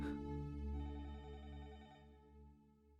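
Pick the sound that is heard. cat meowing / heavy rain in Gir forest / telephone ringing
telephone ringing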